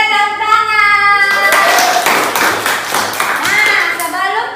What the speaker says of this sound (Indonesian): Oleh, tepuk tangan.